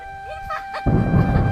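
A sudden loud, deep rumble of thunder from a nearby lightning strike in Deomali, Odisha erupts after a brief stretch of softer sounds, swelling broadly and lingering.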